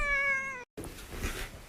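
A cat gives a single clear, loud meow up close, then a brief pause followed by noisy rustling background sound.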